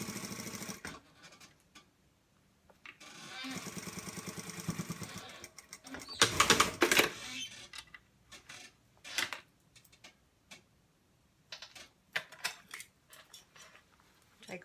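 A sewing machine stitches around the edge of an A-line dress, with a steady whirring run from about three to five seconds followed by bursts, clicks and handling clatter.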